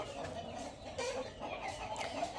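Two roosters fighting, with a steady stream of agitated clucks and squawks from the birds, close by and fairly loud throughout, with no speech.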